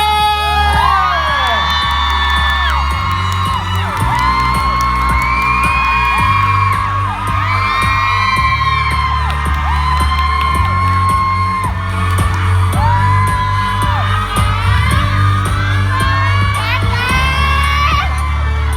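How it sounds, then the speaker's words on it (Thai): A large fan-meeting crowd screams and cheers continuously for the actors on stage, high-pitched shrieks and whoops layered over a steady roar, loud and close. "ขอเสียงกรี๊ดดังๆ ให้กับ นักแสดงบรรยากาศรักเลิฟวิดีโอ"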